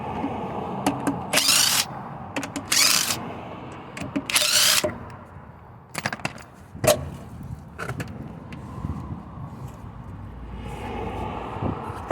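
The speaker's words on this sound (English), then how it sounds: "Right, I can jack it up safely now." Jacking up a Saab 900 Turbo car, a series of short bursts of mechanical ratcheting and whirring with pauses between, close and moderately loud, no talking.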